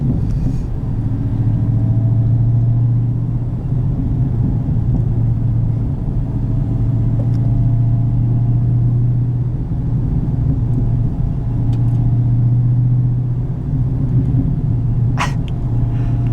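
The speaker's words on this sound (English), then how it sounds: "you lift off the throttle and it makes good noise" A 2018 Dodge Demon's engine drones steadily from inside the cabin, a low continuous rumble with slight swells as it cruises, and a faint click near the end.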